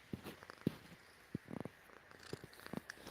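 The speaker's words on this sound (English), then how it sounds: "I don't know if y'all can hear her purring." A cat purrs softly and close by, with a faint rhythmic rumble broken by small soft thumps and rustles.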